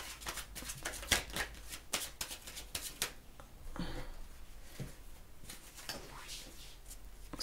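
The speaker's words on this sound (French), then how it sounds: "je vais aller retirer quelques cartes rapidement pour savoir" Tarot cards are shuffled and drawn up close in a quick, irregular run of crisp riffling slaps and soft card flicks, fairly quiet overall.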